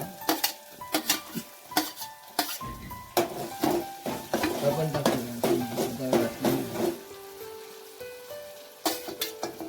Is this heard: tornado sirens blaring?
no